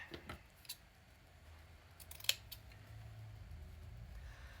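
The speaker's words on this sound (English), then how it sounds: "Let me go ahead and cut this fabric" Scissors cut felt for a travel notebook, a few faint snips close by against a quiet room hum, with one sharp click partway through.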